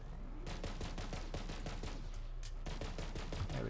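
Rapid, steady video-game gunfire with overlapping shots and bursts running continuously and fairly evenly throughout, close and dense, with no talk over it.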